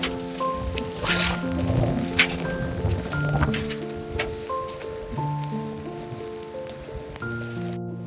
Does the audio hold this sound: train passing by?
no